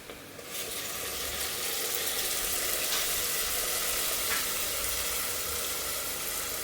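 Ground spice paste sizzles and fries in a pan, a steady broadband hiss that starts abruptly and holds evenly, with a couple of faint stirring scrapes.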